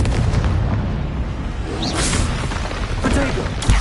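Confringo fire spell cast in the Hogwarts Legacy video game, a booming blast with a whooshing burst around the two-second mark and more pops later, layered over dense game sound and background noise.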